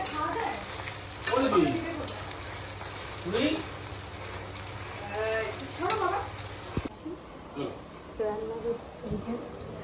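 Chopped onion frying in a pan, giving a soft steady sizzle under voices that talk throughout, the sizzle dropping quieter partway through.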